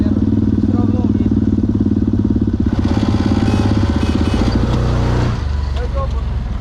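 A Kayo Pro motorcycle, just back from repair, idles and revs in first gear, its engine throbbing loud and close with a rise in revs and a rattling clatter, while a person talks over it.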